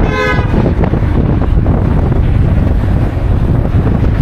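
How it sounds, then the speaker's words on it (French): Wind buffets a microphone outdoors in Hanoi, Vietnam, near the Ho Chi Minh Mausoleum, a loud, steady low rumble that fills the whole stretch with constant gusting roar and no talk. "il y a un vent là, franchement il caille vachement"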